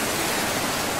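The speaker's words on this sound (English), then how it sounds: "Look at the waves!" Ocean waves at a beach make a dense, even wash of rushing noise, close and unbroken for a second, with no voices.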